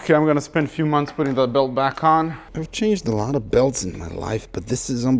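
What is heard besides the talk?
No everyday noises stand out.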